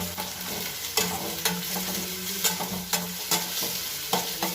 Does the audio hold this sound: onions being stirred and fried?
yes